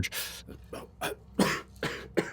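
A voice imitates a dry, rasping cough in a fantasy role-play setting, with a quick series of about six harsh, breathy bursts, close and fairly loud, with short gaps between them.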